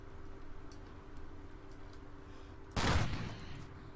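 A single loud sniper rifle shot in Call of Duty Ghosts multiplayer, cracking out suddenly against quiet game ambience and trailing off over a brief echo.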